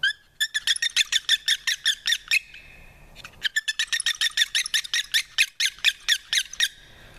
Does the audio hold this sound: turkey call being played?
yes